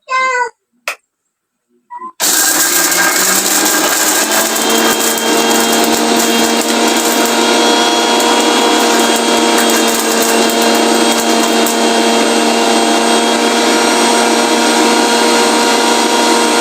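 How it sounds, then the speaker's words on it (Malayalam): A mixer grinder grinding soaked tamarind into paste starts after a few short high cries and roars loudly and steadily at close range until the end. "അതങ്ങ് അരച്ചെടുക്കാം."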